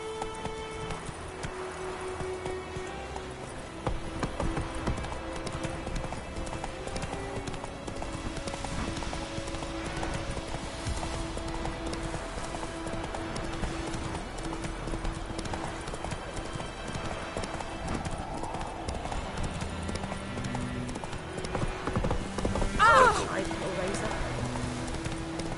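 Horse hooves galloping in the video game Witcher 3, a rapid steady clip-clop rhythm running under game music and ambience, with a voice speaking and a louder burst near the end.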